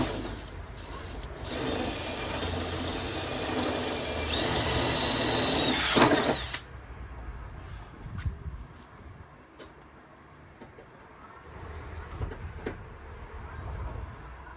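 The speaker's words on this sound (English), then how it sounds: "So we'd have to drill up through there now," Power drill boring up through the bonnet of a Honda Jazz during a K20 engine swap, a loud steady whine for about six seconds that cuts off abruptly, followed by quieter clatter and faint movement.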